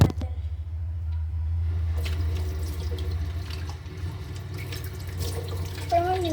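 Water runs steadily from a tap while something is washed beneath it, a continuous close splashing stream with a low hum underneath and brief handling sounds near the end.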